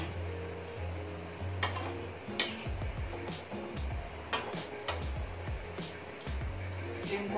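Shakarpara dough frying in hot oil gives a steady, moderate sizzle throughout, with a few sharper bubbling bursts and light clatter from a utensil.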